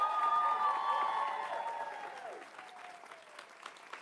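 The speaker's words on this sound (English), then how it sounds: "Give them another round of applause." Audience applause rolls through a hall at a college quiz bowl national championship semifinal, a soft wash of many hands that gradually fades, with a sliding tonal music sweep layered over the start.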